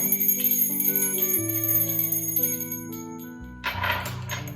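Small, delicate bells chime in a gentle sequence, their clear tones ringing out and overlapping as they slowly fade.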